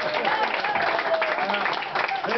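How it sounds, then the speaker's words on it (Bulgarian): An audience claps for the actor playing Ravana in a lively, dense, steady burst of applause, with voices talking and calling out over it. "Ръкопляскайте на Равана,"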